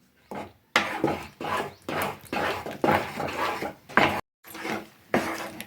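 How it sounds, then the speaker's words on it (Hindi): Amla is stirred and roasted in a pan over a low flame, with a spoon making repeated scraping and rubbing strokes in bursts separated by brief silences. "लो फ्लेम पे इसे लगातार चलाते हुए थोड़ा हम पहले इसे भून लेते हैं।"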